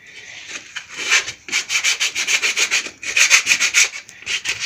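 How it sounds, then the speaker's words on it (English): Sandpaper rubbing by hand across a piece of firewood log, a close, steady run of rhythmic scratchy back-and-forth strokes with brief pauses, no talk. "We have to sand a little bit of this off so that it's nice and clean, and then we can use a piece of sandpaper."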